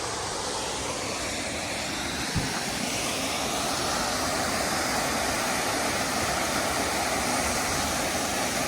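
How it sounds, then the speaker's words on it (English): A constant roaring rush of falling water fills the air, broad and unbroken, from a nearby waterfall at the start of the Foothills Trail, with a single brief knock partway through. "We got a waterfall right out of the gate. You can probably hear it."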